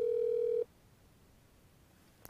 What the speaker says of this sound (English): At this point, you'll hear the phone ringing